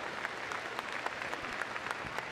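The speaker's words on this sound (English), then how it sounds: "let's give them a big round of applause to encourage them on" Audience applause in the arena at Crufts 2014 for a rescue dog agility team, a steady dense clatter of many hands, fairly quiet and distant, running throughout with no talk.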